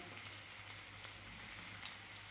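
Onions browning in a pan after a little sugar is added give a soft, steady sizzle with faint crackles throughout, quiet and close with no one speaking.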